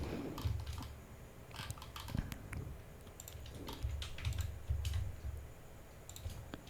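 Quiet, irregular clicks and taps come from typing on a computer keyboard, with keystrokes in quick bursts and short pauses between them.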